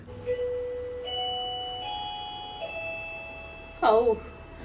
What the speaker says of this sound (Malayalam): ആരോ ബെല്ലടിക്കുന്നുണ്ട്.